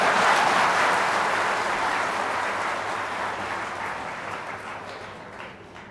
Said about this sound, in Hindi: ताली नहीं बजाई ना?